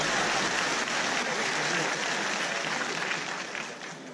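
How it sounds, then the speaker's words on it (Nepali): Dense applause from a comedy show audience fills the space, steady and loud, then thins slightly toward the end with no talking over it. "ढोगिसकेपछि देवताले पनि आशीर्वाद दिँदै ताली ठोक्नु पर्छ।"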